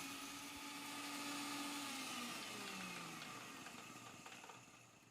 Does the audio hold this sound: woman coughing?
no